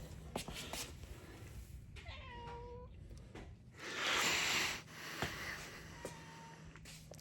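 A shop cat meows in a workshop where a custom stainless exhaust is being built for an LS-swapped G30 van, several close, drawn-out calls over a noisy background with a loud rushing burst midway and no talk.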